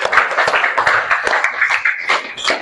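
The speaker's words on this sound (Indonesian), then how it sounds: "Benar, tepuk tangan buat kalian semua." Hand clapping from a small group, a quick irregular patter of claps sustained throughout, fairly close and loud.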